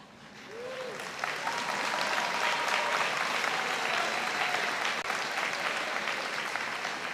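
A high school graduation audience cheers and applauds, a dense wash of clapping that swells within the first second and stays steady and loud to the end.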